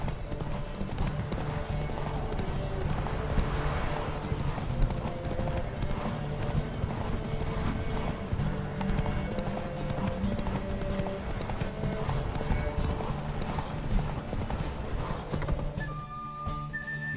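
Roach the horse galloping hard during a race in The Witcher 3, fast continuous hoofbeats with occasional whinnies and steady game music underneath, fading near the end.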